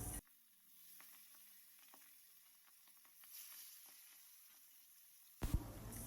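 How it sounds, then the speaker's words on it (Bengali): Pabda fish sizzling in hot mustard oil in a wok: a steady, close frying hiss with scattered crackles and spits, no voices, ending in a sudden louder burst of sizzle. "তারপর এতে দিয়ে দিলাম সর্ষের তেল এখন মাছগুলোকে এক এক করে দিয়ে দিলাম"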